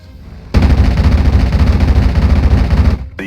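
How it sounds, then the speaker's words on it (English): Anti-aircraft guns open suppressive fire on a German Me-109 fighter in the WWII strategy game Steel Division: Normandy 44, a loud, dense rattle of rapid automatic bursts that starts abruptly and hammers on continuously for under three seconds. "The Me-109 is now under suppressive fire."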